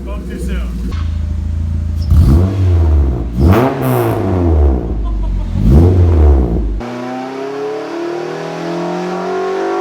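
A Mazda Miata with a swapped-in Honda K-series engine revs loudly in repeated rising and falling bursts close by, then settles to a lower idle-like drone as a voice speaks.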